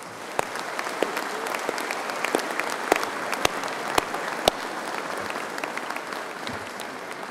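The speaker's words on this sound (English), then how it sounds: "Give the musicians a big round of applause." At a university live-streamed performance, an audience applauds the musicians with a steady, moderately distant wash of clapping, a few sharper individual claps standing out near the start and middle before it eases slightly toward the end.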